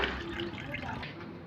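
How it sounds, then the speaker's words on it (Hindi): Tap water runs steadily while a parrot cage is washed, a continuous splashing rush close to the microphone with no pauses. "अभी इधर देख, हाँ इसमें पानी आ रहा है।"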